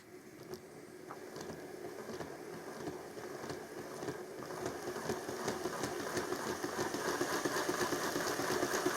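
A Hornby model locomotive runs in reverse on a rolling road, a faint whirring motor with a fast rhythmic ticking from the wheels that grows steadily louder and busier over several seconds, with no talk.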